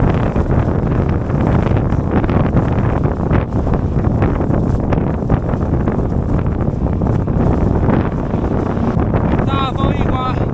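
Strong wind roars and buffets the microphone nonstop while cycling outdoors in Xinjiang, northwest China. The dense, loud rumble holds steady throughout with no break.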